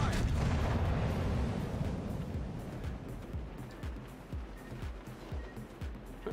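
Naval artillery in a warship video game: a heavy, rumbling barrage opens loudly, then a string of repeated booming shots and impacts follows at an uneven rhythm over a constant low roar.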